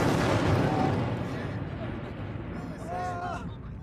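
Booming cartoon nuclear explosions rumble loudly at first, then fade into a lower roar, with a voice speaking briefly near the end.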